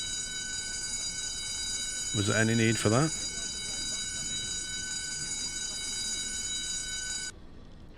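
A submarine alarm sounds in a U-boat video game, a steady, loud electronic tone that runs almost continuously before cutting off near the end. Someone briefly speaks over it.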